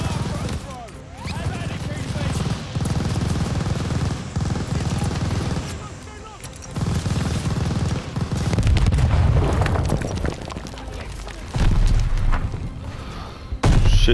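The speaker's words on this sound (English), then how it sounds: "that grenade almost killed me" A grenade blast in the Call of Duty Vanguard campaign lands amid loud, dense battle noise with heavy booms and rattling machine-gun fire, with a player's voice talking over it.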